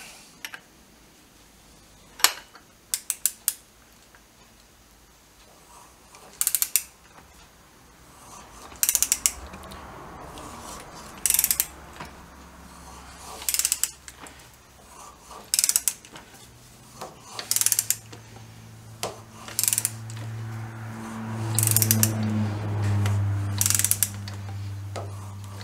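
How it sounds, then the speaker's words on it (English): On a BSA B50T motorcycle, a torque wrench tightens the rotor nut in a series of sharp, close ratcheting clicks spaced by brief pauses, ending with low mechanical rumbling. "Tighten the rotor nut to about 40 pounds."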